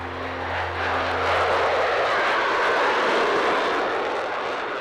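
A fighter jet engine, an F-35, roars steadily and loudly with a broad, even rush that swells slightly and then holds, with no voices over it.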